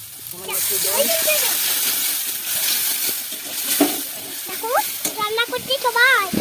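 Banana flower curry sizzles in a pan with a steady, bright hiss, while a voice talks over it throughout.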